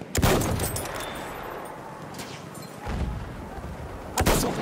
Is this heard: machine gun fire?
yes